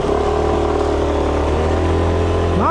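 A VJR scooter engine with a 61-bore cylinder kit during a test ride, holding a steady hum at a constant throttle, then a quick rise in pitch at the very end, close and continuous.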